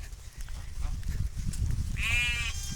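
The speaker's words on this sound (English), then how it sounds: "There are some sheep," A sheep in a field beside a village road gives one clear, fairly close bleat near the end, after a few seconds of quiet outdoor ambience.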